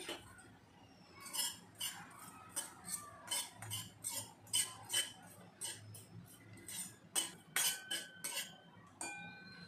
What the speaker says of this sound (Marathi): त्याच कढईमध्ये मी 1 चमचा खसखस आहे ना भाजून घेत आहे